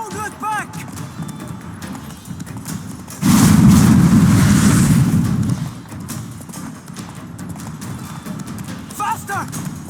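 Horses galloping in The Witcher 3 video game: steady hoofbeats that surge into a loud, heavy rumble midway, under voiced game dialogue and a whinny.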